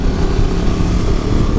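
A Ducati Multistrada 950 motorcycle engine runs in a steady, close, loud drone with a dense low rumble, held at an even pitch without clear revving.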